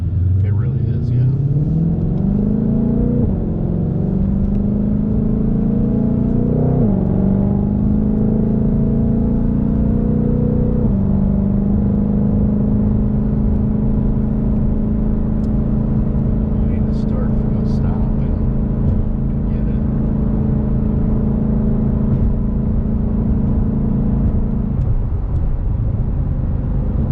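A 2020 Ford Mustang Shelby GT500 with a dual-clutch transmission revs and accelerates, its engine note climbing through gears and then dropping as the transmission shifts down, a loud steady rumble heard from inside the car with people talking over it.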